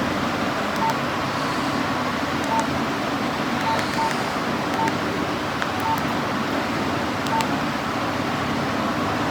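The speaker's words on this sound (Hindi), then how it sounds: "और अब मैं कर रही हूँ अपने पतिदेव को कॉल" A call is dialed on a mobile phone, with a string of short, evenly spaced keypad beeps over a constant background hiss of traffic and air.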